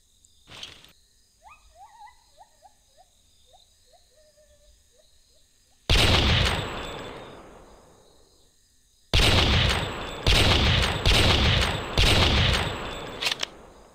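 Gunfire in the game Carnivores Jurassic Park Revolution comes as a loud single shot with a ringing tail, then a tight burst of several rapid shots, after faint owl-like hoots at the start.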